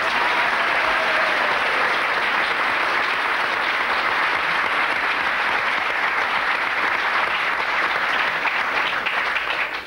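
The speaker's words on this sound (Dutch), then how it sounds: "We bedanken haar met een hartelijk applaus." A studio audience at a Dutch television show filmed on location gives a long, warm round of applause for a guest, a dense, even roar of many hands clapping steadily throughout before easing off at the very end.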